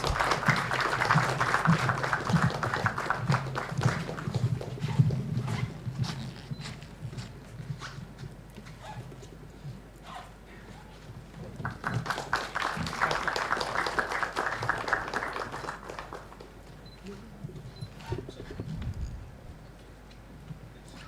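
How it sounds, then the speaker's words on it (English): At a formal foundation day ceremony, the audience claps to welcome the chief guest, with two separate bursts of applause and quieter clapping and footsteps between them. "May I have a huge round of applause"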